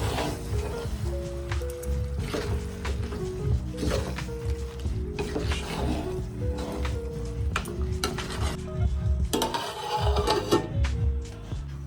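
Masala being stirred in a cooking pot: repeated scraping and squishing strokes over a soft sizzle, with clinks of a spoon against the metal, close and steady with background music beneath.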